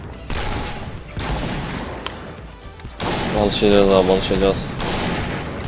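Gunfire in the World War II shooter Point Blank: sharp shots and bursts scattered across the clip under excited voices talking and shouting over them.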